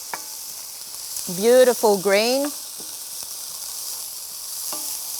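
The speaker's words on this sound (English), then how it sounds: "And we can hear that sizzling of the" Shallots frying in a pan for a minced-meat lettuce-cup dish, a soft continuous sizzle underneath a short spoken phrase.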